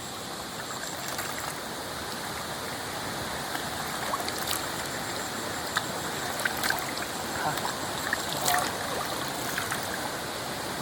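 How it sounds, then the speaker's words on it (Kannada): Kumbattu Falls near Kundapur, a clear-water stream where the film Kantara was shot, gives a continuous close rush of flowing water with scattered splashes and clicks on top, steady and moderately loud throughout. "Kantara shooting spot, ಕುಂಬಟ್ಟು falls"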